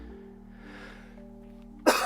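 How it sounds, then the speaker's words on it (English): One sharp, loud cough from a person who has been ill comes at the very end, after a quiet stretch of low background hum. "Just this stupid cough won't go away."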